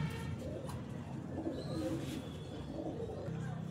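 Pigeons kept as flying Teddy breed birds coo softly several times in a loft, fairly faint over low background noise, with no talk over them.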